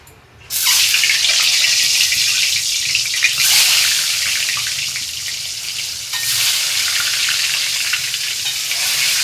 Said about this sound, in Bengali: তেলটা গরম হয়ে গেছে, এতে আমি ডিমগুলো ভেজে নেব।